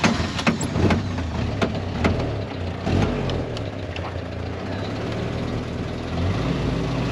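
An old Willys Jeep engine runs after being given gas, a low steady idle rumble with a few sharp clicks and knocks early on, then settling into an even throb.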